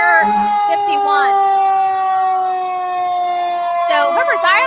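Fire engine and tanker sirens from a volunteer fire department wail loud and close through a Christmas parade, holding a steady sustained tone as people talk over the noise.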